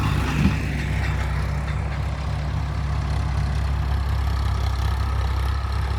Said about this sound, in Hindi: भाई ये जा रहा है ट्रैक्टर, कौन सा है? अर्जुन 555।